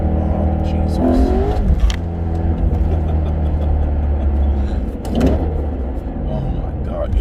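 A BMW E92 M3 engine drones and revs up close as the car accelerates on worn tires, a steady low rumble with brief voices and sounds over it.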